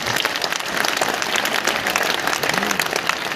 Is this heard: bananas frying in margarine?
no